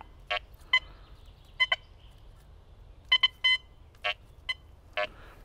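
Quest X10 IDmaxX metal detector giving scattered short electronic beeps, about nine separate tones with irregular gaps, clear and close against a quiet low hum, no talking.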